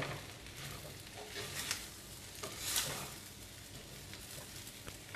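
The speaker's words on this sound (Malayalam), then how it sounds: "ഇളക്കി കൊടുക്കാം" Kerala-style squid thoran being stirred in a pan, a faint soft sizzle with quiet scraping strokes and a brief louder clink, no talk.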